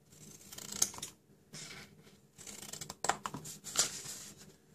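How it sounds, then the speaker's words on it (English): Large scissors cut flaps in paper for a stationery gift box, making a close series of crisp snipping strokes in a loose rhythm with short pauses, with no talking. "I forgot to cut my flaps. I'm going to use my larger scissors for this."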